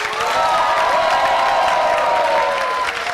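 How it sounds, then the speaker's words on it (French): A studio audience claps steadily and fairly loudly for a few seconds, dense applause with light cheering and a held musical tone underneath, fading slightly at the end. "Vous allez vous applaudir plus fort s'il vous plaît, plus fort que ça."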